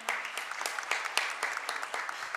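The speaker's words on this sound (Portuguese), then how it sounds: "Uma salva de palmas, cadê ela?" Steady applause from a crowd at a formal medal ceremony, dense clapping with a few louder sharp claps standing out, no voices.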